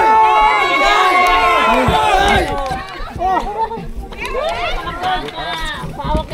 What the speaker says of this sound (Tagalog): Ay, palakpak na lang tayo.